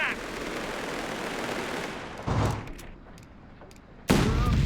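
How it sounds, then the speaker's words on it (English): Heavy gunfire and explosions fill a Company of Heroes 3 battle in the Italy campaign: dense rattling fire with loud blasts hitting in bursts, and a voice speaking amid the noise. "Check your targets and open fire, chaps."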